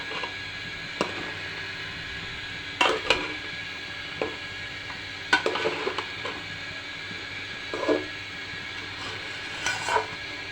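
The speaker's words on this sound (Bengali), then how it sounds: "তো আমি সেই জন্য চালটাকে সমস্ত পেঁয়াজ রসুন মশলাপাতি দিয়ে মাখায় চালটা ভেজে নিচ্ছি সুন্দর করে।" Rice coated with onion, garlic and spices fries in a pot for khichuri, a faint steady sizzle broken by several sharp scrapes and knocks of a spoon against the pan, close by, no voices.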